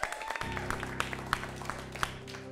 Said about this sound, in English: let's give a round of applause for Craig.